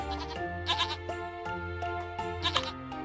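A goat in the video game Equilinox bleats repeatedly in short wavering calls, close and clear over a sustained tonal game music background, without talk.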